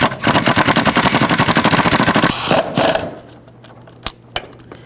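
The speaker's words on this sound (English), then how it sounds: "And snug these bolts down first." Fast ratcheting clicks from a wrench snugging down engine mount bolts on a 2010-16 Buick LaCrosse, loud and close for about three seconds, then a couple of sharp isolated clicks.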